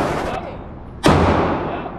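A single sharp gunshot from a Glock 19 pistol at a shooting range, one loud close crack that decays over a second against steady background noise.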